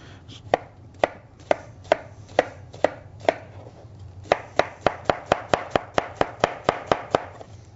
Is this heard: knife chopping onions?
yes